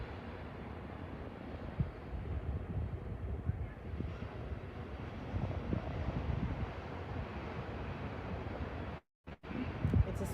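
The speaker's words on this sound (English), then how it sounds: "I was trying to capture the spray off the waves as they break over the rocks" Waves break over rocks at a beach, kicking up spray: a steady, close roar of surf mixed with wind buffeting the microphone, ending with a brief dropout near the end.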